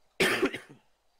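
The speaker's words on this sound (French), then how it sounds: "Mais toussez pas à la gueule!" A single sharp cough, close and fairly quiet, followed by silence.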